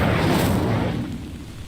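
A short, loud whoosh of the Incendio fire spell in Hogwarts Legacy, a broad rushing flare that bursts at once and fades over about a second, with no talk.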